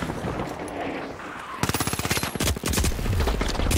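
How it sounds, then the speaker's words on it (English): Rapid bursts of automatic gunfire in The Finals, a loud stuttering volley of closely spaced shots that breaks in sharply after a stretch of softer background game noise. "I'm getting shot."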